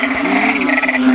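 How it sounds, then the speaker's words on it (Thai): Narrow-mouthed toads call at night after rain, a loud, close, droning nasal croak held over a second with a wavering pitch. "นี่มาดูมาดูอึ่งมันร้อง"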